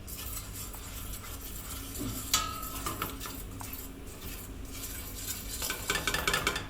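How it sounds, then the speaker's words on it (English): Plain flour and oil being whisked together in a bowl, a continuous soft scraping and tapping of the whisk against the sides, fairly quiet with a few sharper clinks. "Using my whisk, I'm going to combine the two."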